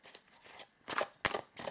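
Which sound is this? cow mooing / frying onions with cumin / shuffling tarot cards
shuffling tarot cards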